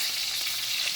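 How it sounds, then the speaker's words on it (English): A swordfish steak sizzles loudly in a pan over medium heat just after being flipped, a dense, continuous hissing fry heard up close with no talk. "we're gonna flip the fish now"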